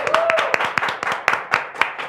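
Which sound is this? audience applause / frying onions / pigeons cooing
audience applause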